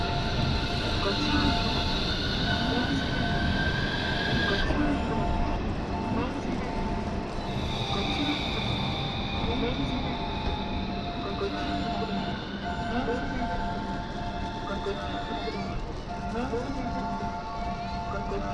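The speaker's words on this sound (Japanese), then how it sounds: "電車が来ます。ご注意ください。" Utsunomiya Light Rail HU300 tram pulling out of the Utsunomiya Station East stop on a test run: steady rolling rumble and whine under a repeating recorded platform announcement voice.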